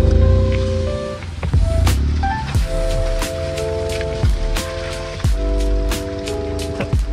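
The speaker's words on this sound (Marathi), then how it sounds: "पाऊस आला आणि सगळीच वाट लागली" Heavy rain falls near a parked Etios Sports car on a muddy fishing outing, with dense pattering drops, sharp plinks and a low rumbling wash running steadily throughout.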